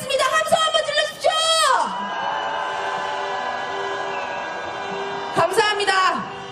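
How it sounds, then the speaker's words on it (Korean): Crowd at a candlelight protest march cheering and shouting loudly in bursts at the start and again near the end, with a sustained hum of voices between. "함성 한번 질러주십시오"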